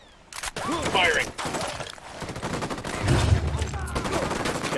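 Gunfire in the video game Ghost Recon Wildlands, bursts of automatic weapon shots and sharp cracks mixed with radio-style voices talking over the fighting.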